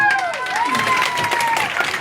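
A burst of clapping and crowd noise with a brief cheer after a dance performance, short and lively, over a higher-pitched tonal sweep.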